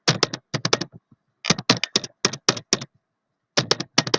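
Fingers typing on a computer keyboard while setting up a new Windows Server 2019 user, close and crisp: quick clusters of clicky keystrokes separated by short pauses, with no talking.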